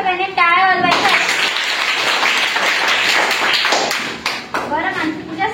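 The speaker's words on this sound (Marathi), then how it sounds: "मानसीसाठी सगळ्यांनी टाळ्या वाजवायच्या आहेत।" Schoolchildren clap together for a classmate's correct quiz answer at a village primary school, a dense burst of close applause filling most of the stretch, with a voice speaking briefly before and after.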